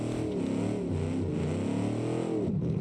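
A Corvette fitted with a 21-litre engine in BeamNG, revving at full throttle: a continuous deep, loud engine roar with wavering pitch that dips briefly near the end, heard alone.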